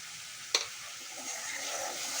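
Spice paste for a tangra fish curry with spinach sizzles softly in a pan after water and salt are added, with one sharp clink of a spoon early on and a faint, steady frying hiss.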